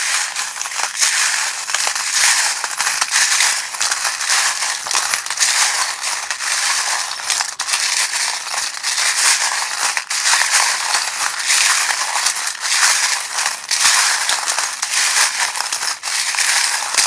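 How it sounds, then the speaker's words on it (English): Loud, continuous clattering and rattling of small charms and dice being shaken and tumbled together, bright and jangly, without a break. "if you don't like the sound of the charms"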